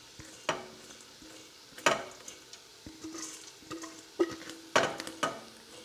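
Rinsed red lentils go into a pot and get stirred, making a string of close clinks and scraping knocks with soft rattles between them.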